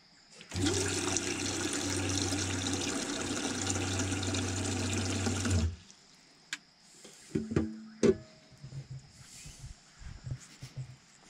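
Water splashes steadily for about five seconds as it pours from a bottle into a dog's water bowl at an off-road campsite, then stops, followed by a few faint clinks and rustles.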